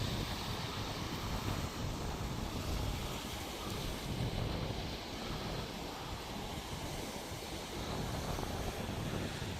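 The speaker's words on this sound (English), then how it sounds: "It's a little bit windy" Steady wind buffeting the microphone at the seashore at Hythe during sea fishing, a continuous loud rush with surf-like roar and no pauses throughout.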